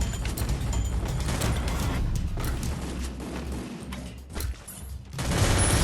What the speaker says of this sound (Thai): มันยิงกันอยู่ด้านในอ่ะ